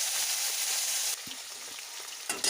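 Steady sizzle of potatoes frying in oil, loud at first then softer, with a few light knocks of a utensil and a brief bump near the end.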